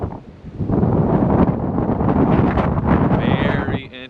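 Gusty wind outdoors in Rome buffets the microphone in a loud, rough roar that rises and falls over a few seconds and fades toward the end.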